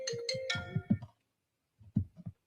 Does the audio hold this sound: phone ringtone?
yes